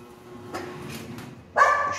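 Street dogs bark outdoors: faint yips early on, then a sharper, louder bark near the end that stands out over a quiet background hum.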